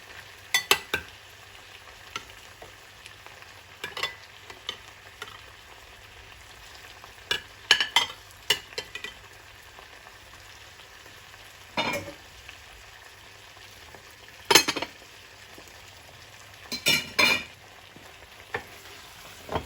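Meat for spaghetti jollof frying in a pan, a low steady sizzle broken by sharp scraping stirs every few seconds, fairly close and with no talking.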